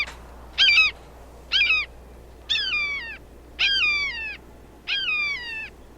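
An owl sound effect calls out in five evenly spaced, sharp screeching cries over a low steady background hum.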